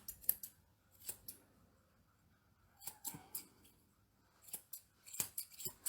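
Nikos Scorpion Blacksmith grooming scissors snip through an American Cocker Spaniel's coat in short quiet bursts, a few close crisp cuts separated by pauses, with no talking.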